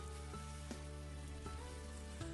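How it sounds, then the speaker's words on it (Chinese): Potato strips, green and red peppers and a little hot water tossed in a wok, giving a steady close sizzle with soft scraping stirs and a few sharper clinks of the spatula against the pan. "再把土豆条也加进来，青红椒也加进来，翻炒均匀"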